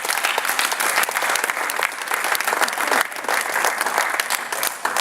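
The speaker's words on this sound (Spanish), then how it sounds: "Déjenle fuerte el aplauso al Rey de Gloria" A church congregation claps loudly and steadily throughout, a dense continuous wash of applause with no pause.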